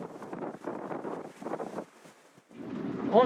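Strong wind gusts buffet the microphone in rough bursts, easing briefly into a lull before surging again, on clifftops above sandstone cliffs on the South Coast of New South Wales.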